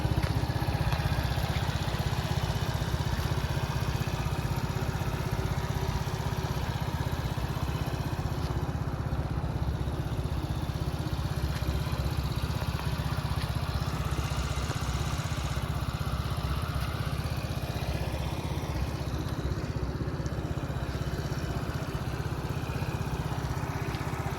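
A Mondial Turismo 50i scooter engine runs nearby in a constant, even drone that holds steady throughout, without talk over it.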